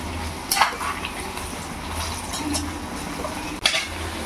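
Curry leaves and lentils crackle in hot oil with a low steady sizzle, broken by two sharp utensil clinks against the pan near the start and end.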